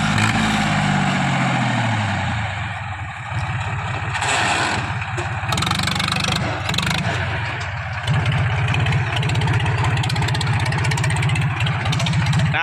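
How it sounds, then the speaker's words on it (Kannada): A 45 HP tractor engine runs with its silencer removed, a loud, close, raw diesel roar that rises in pitch early, then holds a rough, throbbing idle with brief surges. "ನೋಡ್ರಿ ಸೈಲೆನ್ಸರ್ ಇರ್ಲಾರ್ದ ಸೌಂಡ್ ಹೆಂಗೆ ಬರ್ಕತೈತಿ ನೋಡ್ರಿ"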